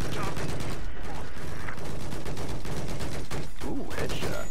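Rapid gunfire from the video game Council of Iron rattles in dense bursts through the whole stretch, loud and close, with a voice talking now and then underneath.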